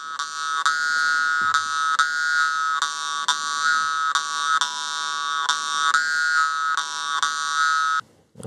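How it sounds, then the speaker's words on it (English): Yakut khomus jaw harp playing, a loud, buzzing, twangy drone with rhythmic pulses re-articulated about every second, alone and close, cutting off near the end. "The vargan has been used for centuries in Yakutia in shamanistic rituals to induce trances and heal sickness."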